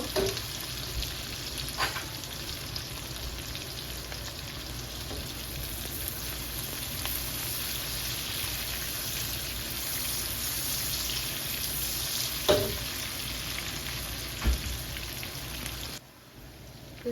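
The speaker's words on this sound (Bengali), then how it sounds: "এখন পেঁয়াজ রসুনটা একটু লাল লাল করে ভাজি করে নিব" Onion and garlic frying in a pan, a steady sizzling hiss close by for most of the time, with a few sharp clinks and pops before it cuts off near the end.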